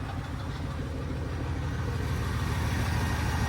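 A 1999 Chevy G3500 Express cargo van idles with a steady low engine rumble, while a faint rattle from the exhaust sits in the mix, heard up close with no voices.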